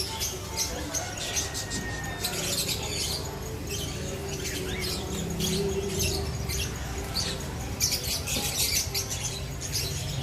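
Many small birds chirp and tweet at the busy Chatuchak bird market in Thailand, a dense layer of high, scattered calls over a steady crowd hum and market bustle, with faint voices in the background.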